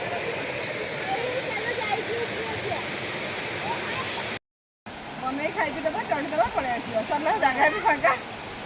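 Khajuribani waterfall in Keonjhar, Odisha, heard as a steady broad rush of falling water close by, with people talking over it, interrupted by a brief cut of silence midway.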